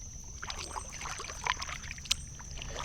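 A kayak paddle dips into calm water in a few soft, quiet splashes and drips, with a sharper splash near the end over faint background hiss.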